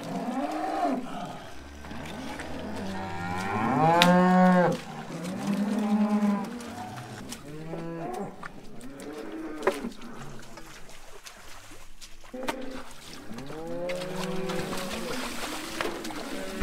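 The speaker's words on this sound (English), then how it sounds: "The last three cows, and then some calves got in as well." Several cows and calves moo repeatedly nearby, long low calls overlapping one another with rustling and shuffling between them.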